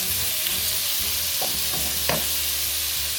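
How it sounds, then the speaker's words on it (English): Steak tips sizzling in a hot pan, a steady close frying hiss broken by a few scraping knocks as a wooden spoon stirs the meat, no talk. "Get this wooden spoon in there and get this cooked up nice."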